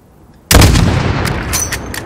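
A single sniper rifle shot in Modern Warfare at 600-meter range, booming sharply after a short quiet and decaying into a long rolling echo with faint clicks in the tail.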